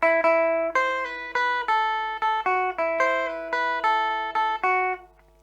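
Rockabilly electric guitar riff from Buddy Knox's Party Doll, played alone as a run of about a dozen bright, clean picked chords and notes in a steady rhythm, each ringing briefly before the next.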